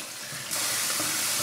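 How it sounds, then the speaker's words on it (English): Tap water runs through a sieve to rinse grated potatoes for hash browns, a steady close hiss of pouring water that grows louder and brighter partway through and then continues evenly. "I find run through the sieve for a few minutes, just until the water goes clear."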